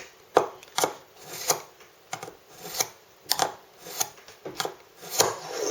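Knife blade drawn repeatedly across a Lansky Blade Medic sharpener, a steady series of about a dozen close, crisp scraping strokes in even rhythm with no talking.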